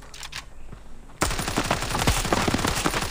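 Rapid automatic gunfire in the mobile shooter Standoff 2 bursts in suddenly after a quiet moment, loud sprayed shots in a fast, dense rhythm.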